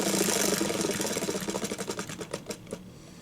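A roulette wheel spins in a card game banlist draw, its rattling ticks starting as a dense blur and slowing into distinct, spaced clicks as it winds down, close and fairly loud with no voices.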